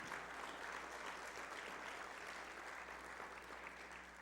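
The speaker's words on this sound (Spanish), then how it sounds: "Dele ese aplauso al Señor" A church congregation applauds, a steady wash of many hands clapping together, heard from a distance and continuing evenly for a few seconds with no talk.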